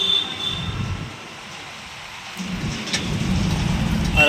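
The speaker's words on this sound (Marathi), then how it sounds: "पाऊस आला मोठा बघा पाऊस पडतोय" Steady heavy rain hisses and patters close by, swelling louder after a brief lull, with a low rumble underneath.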